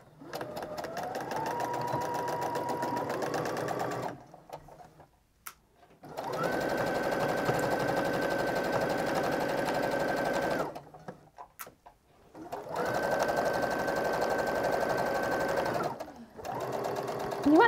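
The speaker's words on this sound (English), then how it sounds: "now we are just gonna stitch all the way around the outside of the mitten" A sewing machine stitches around the edge of a mitten made from an upcycled sweater. It runs in three steady bursts of a few seconds each, with short quiet pauses between them, heard fairly close and at moderate level.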